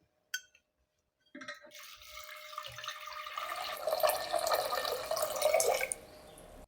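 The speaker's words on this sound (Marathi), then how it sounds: "त्याच्यामध्ये 4 कप पाणी घालणार आहे आपण." Four cups of water pour into a pot of toor dal for South Indian rasam, a steady splashing stream that runs for several seconds close by and stops abruptly, preceded by a brief clink.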